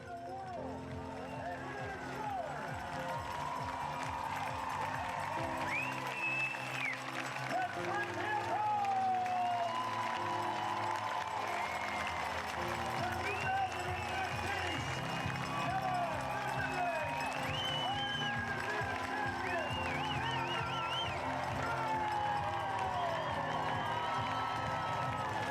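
At the 2015 Ironman New Zealand finish, a Kiwi crowd stands and cheers as Brown finishes to become the oldest Ironman winner. A dense, steady roar of cheering and clapping fills the whole stretch, with voices mixed in.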